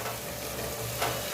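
Half-cooked onions frying in hot oil in a pan while being stirred, a steady close sizzle with a brief scrape of the spoon near the end.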